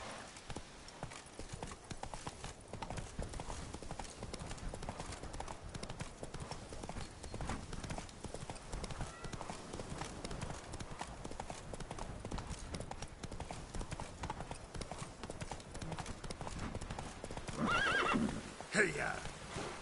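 A horse gallops in The Witcher 3: Wild Hunt, with a steady stream of hoof clip-clops and a neigh near the end, fairly faint throughout.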